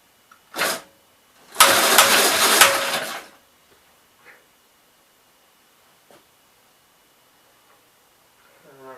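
A 1965 Gravely LI walk-behind tractor engine cranks in two bursts, first a short one and then a longer grinding crank, without catching. Faint ticks and clicks follow in near silence.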